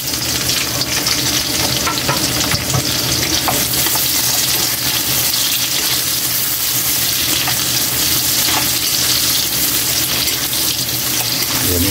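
Onions frying in a pan make a loud, dense, unbroken sizzle with faint stirring scrapes, steady throughout, with no voices.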